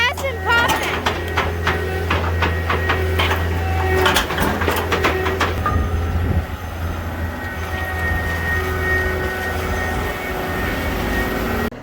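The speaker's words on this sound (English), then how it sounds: "I took the jackhammer off here" A jackhammer breaks up concrete in a cattle barn, a rapid loud pounding lasting about five seconds before it stops, leaving the steady drone of a running engine nearby.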